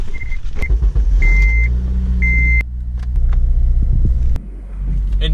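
A 2007 Honda Civic Si FG2 rolls along with a steady interior road rumble and wind noise, broken by a few short electronic beeps and a clunk.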